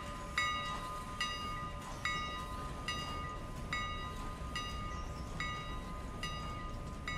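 Train in the video game Railroader rolling through curves, with a sustained horn-like tonal whine and regular squeals or clanks every second or so over a low rumble, moderately loud and without speech.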